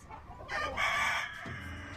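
A chicken clucks and then crows in a short, loud, close burst at a haunted chicken house attraction in Heflin, Alabama.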